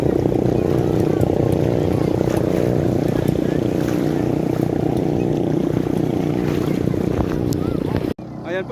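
A motorboat engine drones steadily and loudly on the water with a pulsing, buzzy tone, wind buffeting the microphone, until the sound drops off abruptly at the end.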